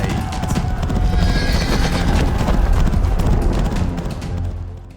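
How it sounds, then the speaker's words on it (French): Egyptian army horses and chariots galloping in pursuit, a dense, continuous rumble of hooves and wheels with loud low-end thunder, steady throughout and fading slightly at the end. "Le pharaon et toute son armée, chevaux, chars, cavaliers et troupes égyptiennes partirent à la poursuite des Israélites."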